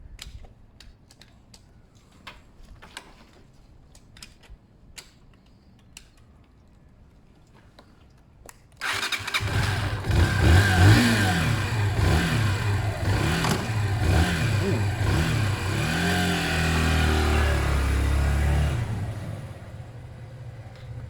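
A Zontes Mantis 125cc motorcycle engine catches after quiet clicking and tapping, then idles and revs up and down in rising and falling pulses for about ten seconds before cutting out.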